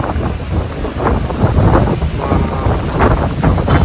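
Steady wind in Athens, Greece buffets the microphone with a loud, continuous rushing roar that swells and gusts throughout, no voices present.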